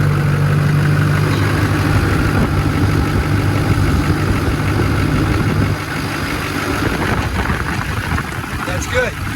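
A Duramax diesel pickup idles steadily nearby, a constant low clattering rumble that softens slightly partway through, with faint background noise and no speech.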